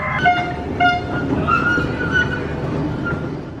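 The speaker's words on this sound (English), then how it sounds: "Oh my gosh, that train is so cute." A small park train at Dan Nicholas Park, Salisbury, North Carolina, rolls by with a steady rumbling clatter, punctuated by a couple of short whistle toots, moderately close.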